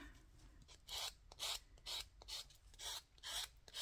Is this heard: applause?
no